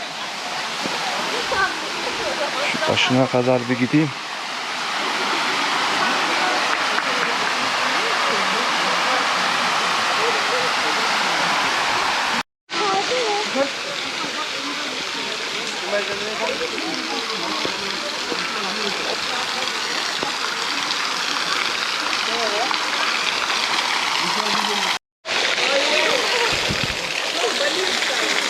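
The Tatlıca waterfalls and stream in Erfelek canyon, Sinop, running low on water, give a steady broad rush of falling and flowing water, close and continuous, with someone briefly speaking near the start and two short dropouts.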